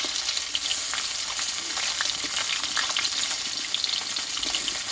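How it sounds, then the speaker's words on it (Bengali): Jiol fish fry lightly in oil in a pan, a continuous close crackling sizzle with scattered small pops, heard on its own with no talking. "এই মাছ কিন্তু হালকা করে একটু ভেজে নিতে হয়"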